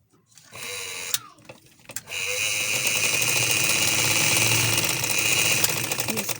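A sewing machine stitches a puff sleeve for an umbrella frock, starting with two short bursts and then running in a long, steady, close-up mechanical whir.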